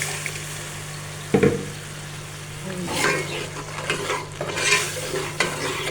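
Spoon scraping and stirring masala of ground ginger, garlic, green chili and tomato with onions in a sizzling pot, with a clank near the start and irregular scrapes over a steady crackle.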